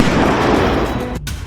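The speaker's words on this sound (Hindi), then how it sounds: "धमाका अफ्रीका महाद्वीप के सोमालिया में हो रहा है।" A strike explosion in Somalia, with a loud, dense broadband rumble sustained throughout, then a brief sharp cutoff before the noise resumes.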